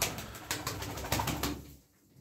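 Pigeon cooing in a short series of soft repeated pulses, fairly close, fading out near the end.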